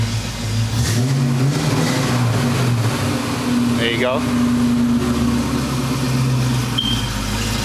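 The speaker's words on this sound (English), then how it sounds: "I'm not sure if I can on my own let you hear the exhaust" A 1991 Ford Mustang GT Foxbody with a 5-liter 302 V8 idles with a steady low exhaust rumble and a few brief revs, while someone speaks briefly nearby.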